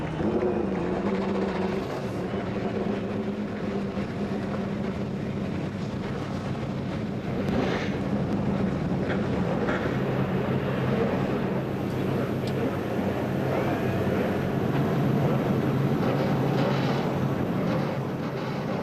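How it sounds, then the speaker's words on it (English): Many race car engines at Daytona International Speedway fire up together for the start of the 2013 Rolex 24, forming a steady, dense roar with wind buffeting, sustained at even loudness throughout without spoken voices. "the siren sound of engines at Daytona International Speedway"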